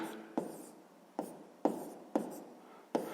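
Pen strokes on paper while working a sixth-grade math exercise land as five separate sharp scratchy strokes, each fading quickly, close and clear with no talk.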